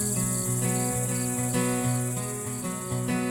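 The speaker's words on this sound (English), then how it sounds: "We listened to crickets chirping in the distance." Dense, continuous cricket chirping fills the air at a glamping retreat in Canada, a steady droning trill with no voices.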